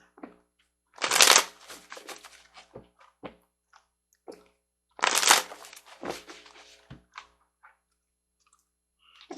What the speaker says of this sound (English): Grabbing some tarot cards.